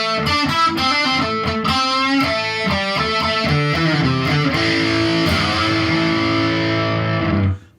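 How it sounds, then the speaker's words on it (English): Slow, distorted electric guitar plays a riff, loud and continuous with chunky repeated notes and sustained chords, no voice, ending abruptly. "I'm gonna put a little distortion on this and we'll go through the riff real slow."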